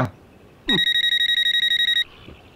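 A telephone rings with a steady electronic tone repeating in rapid pulses for about a second and a half, loud and alone, set in a comedy scene with a brief voice at the start.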